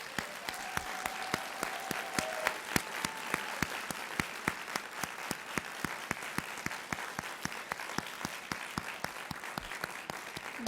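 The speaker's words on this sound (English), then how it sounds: "please, to give a round of applause to your faculty" Graduates at a doctoral hooding ceremony applauding their faculty, a long, faint, steady round of clapping with a few sharp individual claps standing out and a brief tone in the background.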